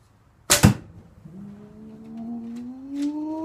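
A river cane arrow loosed from a bow thuds sharply into a target about ten yards away, one loud close impact followed by a fading low hum as the shaft vibrates.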